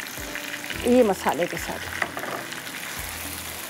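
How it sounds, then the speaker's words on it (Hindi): Chicken fries in a pan with spices, a steady close sizzle running beneath a voice speaking throughout. "अब इसको थोड़ा सा भूनेंगे"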